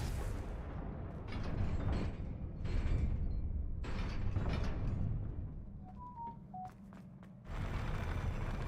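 Repeated Confringo blasting spells from Hogwarts Legacy burst out in a string of loud booming blasts, some with bright ringing tones, alone with no talk over them.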